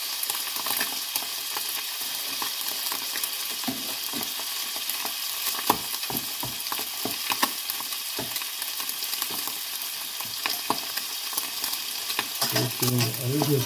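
Seabass fillet frying in butter in a pan, a continuous close sizzle and crackle with scattered sharp pops throughout and a brief voice near the end.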